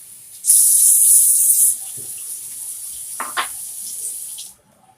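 Cold tap water pouring into a cooking pot for a thin lentil curry broth, a steady rushing stream that is loudest in the first second and then runs on more softly for a few seconds.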